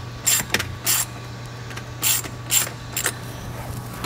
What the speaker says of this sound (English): we're gonna go ahead and tighten down the throttle body side first to hold the tube in place